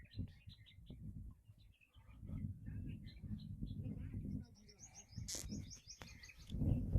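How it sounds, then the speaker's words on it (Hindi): Birds chirping and tweeting in short repeated calls throughout, fairly faint, with quiet voices and outdoor background underneath. "कितनी सुंदर आवाज़ है ना चिड़ियों की।"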